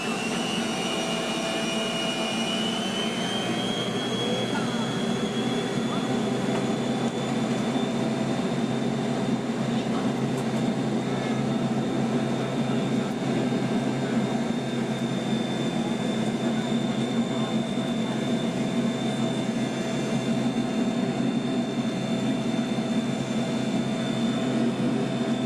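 Eastern Airlines Boeing 727-200 trijet rolling for takeoff, a steady loud broadband roar of jet engines heard from inside the cabin with a rising whine, continuous throughout.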